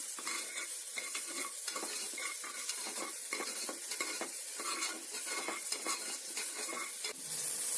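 Crushed ginger sizzles as it is sautéed in a pan for a creamy spinach stem soup, with steady frying hiss broken by repeated scrapes and stirs of a utensil against the metal.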